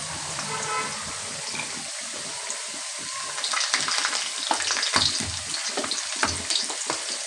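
Potatoes frying in a pan, a steady sizzle that grows louder and more crackly halfway through, with bursts of bubbling and spitting up close.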